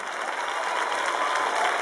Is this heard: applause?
yes